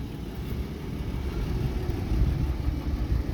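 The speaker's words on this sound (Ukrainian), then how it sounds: "Двигун працює рівнесенько." A Toyota Land Cruiser Prado 120 engine idles steadily nearby, a low continuous rumble with slight fluctuations and no talking.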